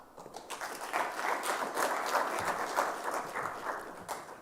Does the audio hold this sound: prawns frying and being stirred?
no